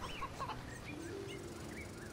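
Roosters cluck and crow in the video game Assassin's Creed Odyssey, faint and brief over a steady background bed of game ambience and music.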